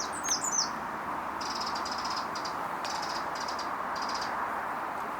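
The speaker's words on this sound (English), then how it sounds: "It's a wren. Might be 2 of them." Two wrens sing outdoors in short, bright repeated trills, moderately close, over a steady broadband background hiss.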